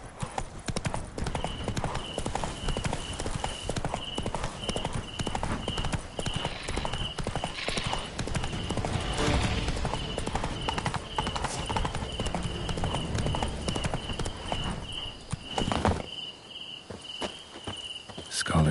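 Roach the horse clip-clops steadily along in The Witcher 3 video game, hooves beating a regular walking rhythm over a bed of chirping crickets and insects, with game music and ambience throughout.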